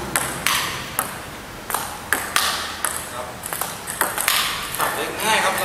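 Table tennis ball being chopped with a Milky Way Neptune long pips rubber: a series of sharp, close pings and taps at an irregular rally pace, with a voice talking over parts of it.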